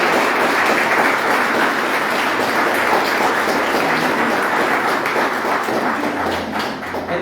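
A church congregation claps loudly during a sermon service, a thick, continuous wash of applause that holds steady and eases slightly near the end, no speech over it.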